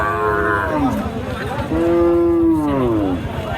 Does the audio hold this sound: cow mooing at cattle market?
yes